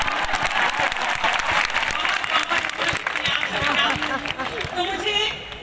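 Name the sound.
audience applause at a poetry gathering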